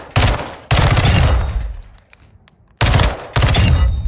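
Video game Glock 18 bursts fire in two rapid, loud volleys separated by a pause, each a dense automatic rattle with sharp onsets that trails off.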